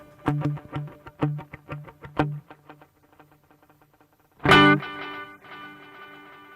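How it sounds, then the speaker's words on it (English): Guitar run through an Elevate effects echo-verb setting: a rhythmic run of plucked notes repeats and smears into a reverb-like wash, then one loud strummed chord rings out and decays into a lingering tail. "Sort of an echo that devolves into a reverb-ish type thing."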